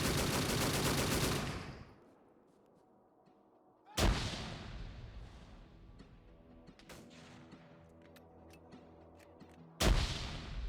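Gunfire and grenade blasts in a war video game set in Indochina: a heavy burst of fire fades out, then two sharp loud explosive hits land several seconds apart, with scattered faint shots and clatter in between.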